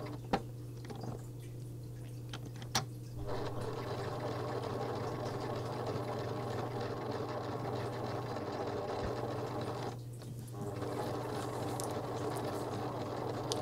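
A sewing machine stitches around the edge of a dress pocket, running with a steady low mechanical hum and brief pauses where the needle stops to turn, heard close and alone with no talking.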